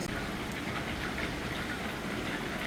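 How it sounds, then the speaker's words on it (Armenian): Heavy rain pours down at an outdoor festival venue in Kapan, Armenia, shortly before a concert, a dense, constant hiss of falling water with no voices. "Շատ քիչ է մնացել համերգին եւ այսպիսի հորդառատ անձրև է"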